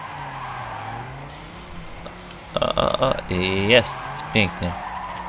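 A Mustang drifts in TrackMania 2 Canyon with a steady engine drone and then loud, wavering tire squeals in bursts during the second half. Someone speaks briefly over it.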